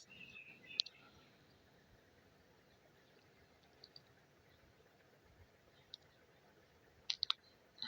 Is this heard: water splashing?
no